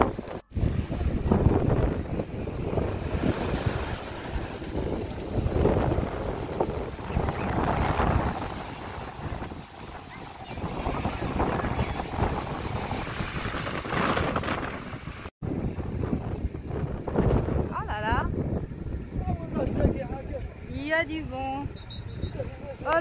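Strong wind at Madagh beach near Oran buffets the microphone in loud, uneven gusts, mixed with surf-like noise, while people talk throughout.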